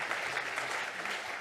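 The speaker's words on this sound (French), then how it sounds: "On peut l'applaudir." A conference audience claps steadily and evenly for a brief moment, a full crowd applauding at moderate volume in a hall.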